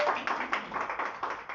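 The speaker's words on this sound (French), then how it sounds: "Ça s'applaudit." A short burst of audience clapping at a press conference, a brief rapid patter of hands that is moderately loud and close.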